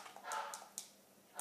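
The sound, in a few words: dog barking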